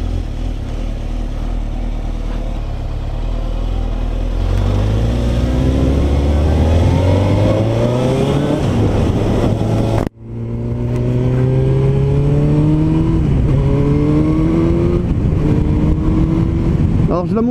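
A Suzuki GSX-R 1000 sport motorcycle engine pulls loudly up through the revs in rising sweeps, cuts sharply for a gear change, then climbs again with wind rush, heard close from the rider's position.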